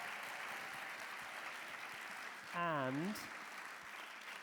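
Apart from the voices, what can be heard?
audience applause for children's choir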